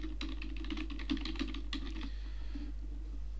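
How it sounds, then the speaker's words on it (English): Keys tapped on a computer keyboard while composing an email in a CRM program, a steady run of quick, light clicks at moderate level over a constant low hum, with no one speaking. "type in the body of our email here"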